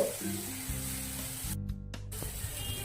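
Chopped ginger dropped into hot oil hisses and sizzles loudly across the whole clip, a dense, close-up frying crackle that briefly thins, then swells again as the pieces settle in.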